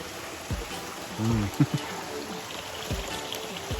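The East Fork of the San Gabriel River flowing over rocks, a soft steady babble with occasional small splashes and gurgles close by, fairly quiet, no voices.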